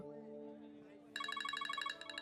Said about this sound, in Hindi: टेलीफोन कॉल, मैं अभी आता हूँ।